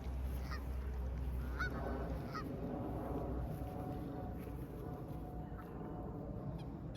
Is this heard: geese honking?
yes